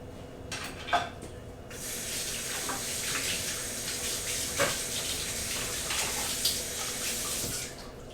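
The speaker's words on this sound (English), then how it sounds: "let's just strain it one last time" Homemade coconut milk is poured through a strainer, making a steady, close splashing trickle of liquid with a few brief louder drips and spatters over several seconds.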